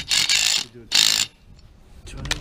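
Ratchet cranking a Kryptonite Stronghold motorcycle anchor tight, with two bursts of close, loud clicking followed by a quieter pause and faint later clicks.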